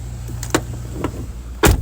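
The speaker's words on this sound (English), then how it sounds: "let me close the door." A house door swings shut with a few light knocks and rattles, then a firmer thud as it latches, close by and with no one talking.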